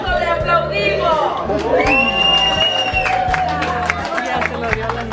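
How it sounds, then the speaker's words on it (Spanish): Clapping and cheering from a small gathering of family and friends, mixed with excited chatter and voices talking over it, sustained and fairly loud throughout. "¡Vamos, le aplaudimos!"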